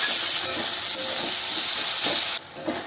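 Tomato, green chilli, salt, turmeric and chilli powder sizzle loudly in a hot pan with a steady bright hiss, dropping off suddenly near the end as stirring shifts the pan.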